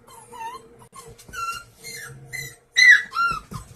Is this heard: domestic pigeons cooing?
no